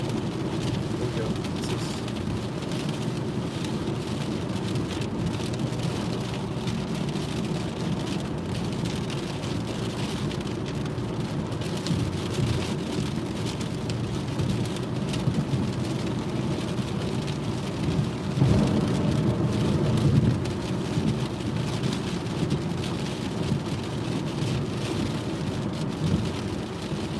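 Heavy rain pours steadily outside a car, a dense unbroken hiss, with a low rumble of thunder swelling briefly partway through.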